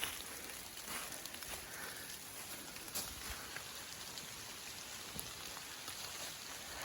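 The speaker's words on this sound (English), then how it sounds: "it's actively hailing on us right now." Hail falls outdoors on an old forest road, a dense, steady patter of small impacts with a few sharper ticks, fairly faint and with no talking.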